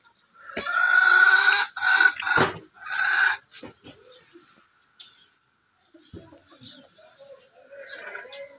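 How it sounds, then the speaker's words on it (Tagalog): A chicken squawks and clucks loudly up close in several bursts, followed by quieter scattered clucks and faint background noises. "Pwede mag-itlog ang manok."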